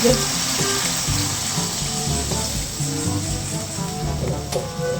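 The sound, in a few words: water being poured into a cooking pot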